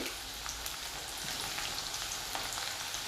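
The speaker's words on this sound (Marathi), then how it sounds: "आता आपण ही लसूण थोडी भाजली गेली पाहिजे भाजून घेऊया" Garlic frying in a pan for a wild karटुले vegetable dish, a steady fine crackling sizzle with scattered pops, close and even, with no talk.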